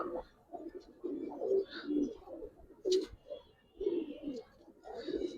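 Giribaz pigeons coo in a repeated series of soft, throaty bursts, close and moderately loud, with brief pauses between phrases and no talk.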